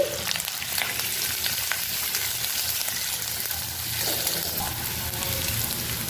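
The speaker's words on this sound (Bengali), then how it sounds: "কারি পাতাটা দিয়ে দিলাম। এতে দিয়ে দিব কাঁচা লঙ্কা, এরপর দিয়ে দিব পেঁয়াজ কুচি" Curry leaves, green chilies and chopped onion frying in oil for semolina pulao, a steady, moderately quiet sizzle with faint stirring.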